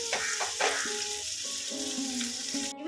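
Onion and green chilies frying together in a pan for dhania chicken, a steady close sizzle with a few stirring knocks, no talking.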